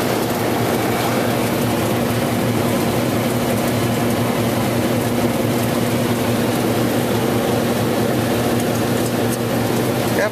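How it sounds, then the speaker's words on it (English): A small 2-ton HVAC blower pulling air through an evaporator runs with a loud, steady broadband whoosh and a constant low hum, unchanging and close throughout with no voices. "This is our little 2-ton blower"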